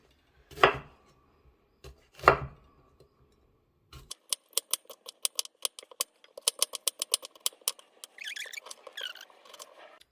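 A knife chops jalapenos on a board for pico de gallo salsa, first two heavy separate strokes, then a quick run of sharp, close, rhythmic taps, with no voices.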